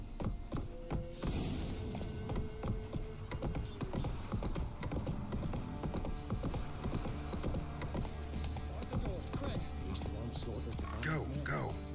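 Horse hooves clip-clopping at a gallop in The Witcher 3, rapid rhythmic thuds under game music and effects, with a person talking over them.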